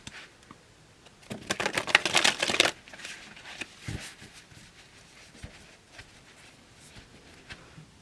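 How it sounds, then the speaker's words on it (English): Tarot cards being shuffled in a riffle burst of dense, crisp flutters for about a second and a half, followed by a few quieter taps and handling sounds, close and clear with no talking. "One more shuffle."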